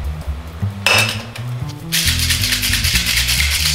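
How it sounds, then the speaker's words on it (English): Ice rattles hard inside a cocktail shaker holding light rum and tequila, shaken in two loud bursts separated by a brief pause, with background music underneath. "And we're going to shake that up."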